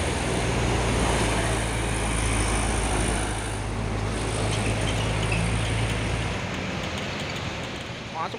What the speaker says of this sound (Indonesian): Masuk lagi, truk Isuzu Giga, Kiat Ananda Group.